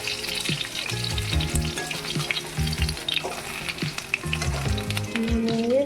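Fritters of bottle gourd leaf and katla fish fry in oil with a loud, dense sizzle and crackle, broken by repeated scraping and clinks as a spatula turns them, no voices present.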